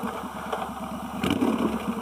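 A 1996 Suzuki Intruder VS1400 motorcycle engine running close by, a steady low throbbing idle that swells slightly near the end.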